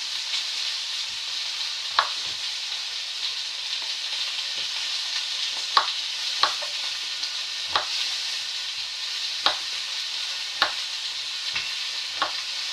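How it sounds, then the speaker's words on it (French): Turnip, bell pepper and onions frying together in a pan, a steady bright sizzle running throughout with occasional clicks and scrapes of a spoon stirring the small pieces, close and without talk. "on va le mettre en cuisson en même temps que le poivron et les oignons"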